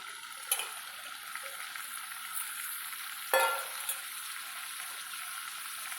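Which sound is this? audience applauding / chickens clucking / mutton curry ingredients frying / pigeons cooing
mutton curry ingredients frying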